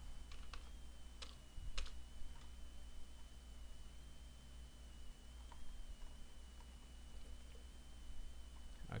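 Keys on a computer keyboard clicking while commands are entered in CAD drafting software, a few sparse close taps scattered over a steady low room hum, with no talk.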